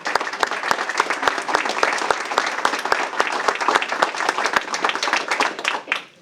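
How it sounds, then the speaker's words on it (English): An audience at a healthcare stakeholder briefing claps steadily for about six seconds, with dense overlapping hand claps at a moderate distance that taper off at the end. "So a round of applause."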